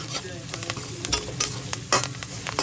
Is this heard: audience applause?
no